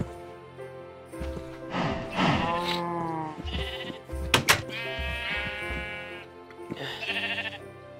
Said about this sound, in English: Hello, sheep. Come in.